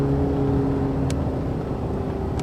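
Steady engine drone from a VW Tiguan TDI R-line diesel SUV with 4Motion all-wheel drive under acceleration, a constant low hum with tonal harmonics and no voices.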